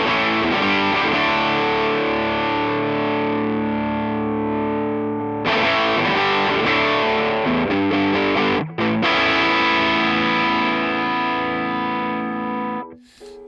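Crunchy, mildly distorted electric guitar amp tone playing steady strummed chords with a couple of brief breaks, loud and close.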